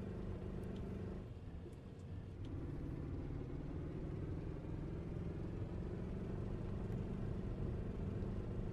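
A heavy truck's engine labors with a deep, continuous rumbling drone on a mining road in Euro Truck Simulator 2, steady and uninterrupted with no talking.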